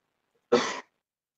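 A single short, harsh cough bursts out once, close and fairly loud, then gives way to silence.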